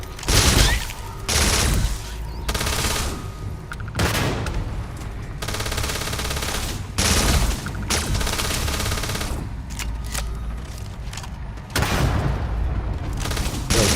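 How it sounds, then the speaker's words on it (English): Grenade explosions and gunfire in the video game Starfield, a dense run of loud bursts and booms that keeps going almost without pause. "Stop throwing random grenades."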